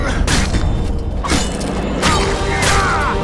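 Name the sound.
bomb explosion in the video game The Witcher 2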